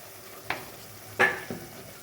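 Taro stolons in mustard oil being stirred in a pan, with three short scraping and sizzling bursts of the spatula against a quiet background, no voices.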